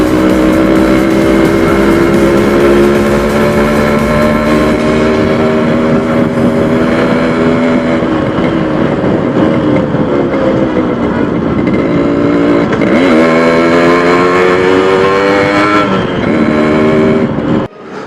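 Yamaha RX 100 two-stroke motorcycle with a performance upgrade and longer wheelbase, its engine running loud and steady throughout with rising and falling revs, a buzzy harmonic note and no talk.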